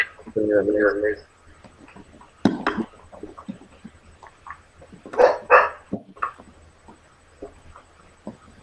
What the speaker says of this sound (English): I can hear my dog.